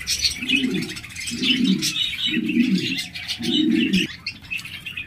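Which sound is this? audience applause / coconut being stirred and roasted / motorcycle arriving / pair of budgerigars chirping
pair of budgerigars chirping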